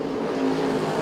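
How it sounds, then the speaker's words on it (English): An IMCA stock car engine at a speedway drones steadily as it gets going again after stopping, a loud, sustained rumble with a slowly rising tone and no talk over it. "No, Vachey does get the car going once again."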